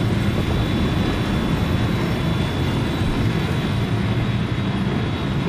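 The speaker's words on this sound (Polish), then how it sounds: "to jest mój jet, słyszysz to?" A jet aircraft in Call of Duty Black Ops Cold War multiplayer roars loudly and steadily, a dense broad engine rush that fills the moment without talk.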